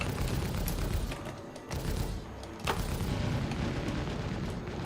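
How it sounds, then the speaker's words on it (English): Weapon fire pounds a ship's shields in the Star Citizen space combat game, a loud, continuous rumble with heavy booming impacts and brief dips between bursts. "Shields under fire."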